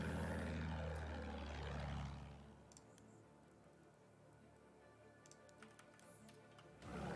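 A propeller airplane in the Battlefield 1 video game drones loudly, its pitch sweeping down as it passes close, then fades while faint clicks continue before a loud burst returns at the end.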